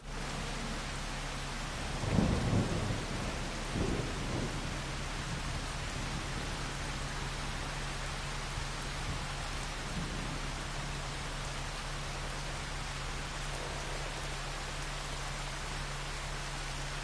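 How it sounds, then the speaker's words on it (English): Farming Simulator 25 on PS5 fills with steady heavy rain hissing continuously, with a deep thunder rumble rolling in near the start and fainter rumbles later, with no voices. "up until 10 o'clock, we're going to get a little bit of a break, and then it's going to rain some more"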